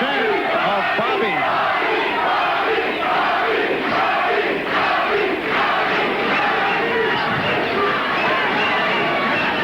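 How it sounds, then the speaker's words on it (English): A loud, dense arena crowd at the Dennis Andries vs Bobby Czyz boxing match chants Bobby, with steady massed voices rising and falling throughout and no pause. "And a chant of Bobby."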